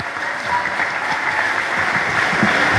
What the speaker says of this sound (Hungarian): Egy nagy tapsot a katasztrófavédelem dolgozóinak.